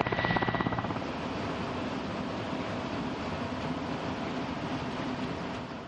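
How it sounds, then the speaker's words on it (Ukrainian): A military transport-attack helicopter flying in a combat zone, a steady loud rotor and turbine roar with rapid blade chop, most pronounced at the start and holding level throughout, no voices. "Це один з транспортно-ударних вертольотів операції об'єднаних сил."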